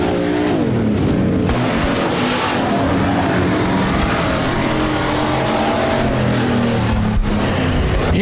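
Stock cars in a Sportsman and Hobby Stock heat race at Rapid Speedway roar past loudly, engines revving and shifting pitch as several cars sweep by close together.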